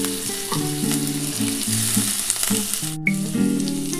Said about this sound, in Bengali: একটু এর মধ্যে নুন দিয়ে আর একটু সামান্য হলুদ দিয়ে ভেজে নিচ্ছি